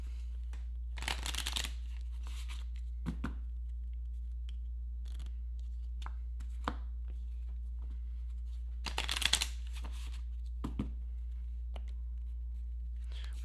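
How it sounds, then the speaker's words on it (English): A deck of cards for the Final Girl board game is shuffled by hand, with two main riffle bursts and scattered soft card flicks and taps at close range, over a steady low hum and no speech. "And then we'll shuffle it a couple times."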